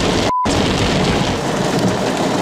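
Heavy rain and hail pour down loudly and steadily during a thunderstorm, with a deep rumble of thunder from a nearby lightning strike mixed into the downpour, heard from inside a car.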